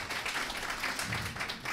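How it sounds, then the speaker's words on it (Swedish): A large audience at a live talk show claps in a dense, sustained burst, loud and close-sounding for a couple of seconds with no one speaking over it. "Det var största applåden."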